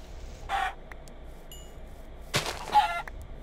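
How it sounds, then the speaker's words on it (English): Out in the open, chickens give a couple of short clucking bursts, then a rooster lets out a brief crow near the end, all fairly faint against a quiet outdoor background. "A lot of chickens out here"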